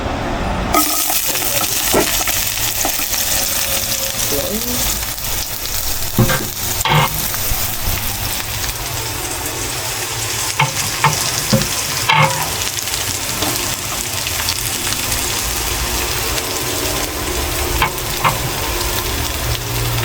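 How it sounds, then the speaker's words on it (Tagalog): Onion and garlic sauté in a reduced amount of cooking oil for pork menudo, giving a loud, steady sizzle throughout, with stirring scrapes and occasional utensil clinks close by. "nagbawas na ako ng mantika para igisa itong ating sibuyas at bawang"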